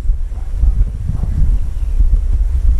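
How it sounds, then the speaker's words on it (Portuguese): Strong wind buffets steadily, a low, continuous rumble with no voices. "só tá apenas ventando"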